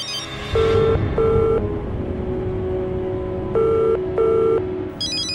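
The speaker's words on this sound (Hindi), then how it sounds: "कुछ ऐसा फोन आ गया है कि मुझे सुनना पड़ेगा" A telephone rings in repeated electronic bursts, two pairs of trilling tones separated by a pause, loud and near, over a low background hum.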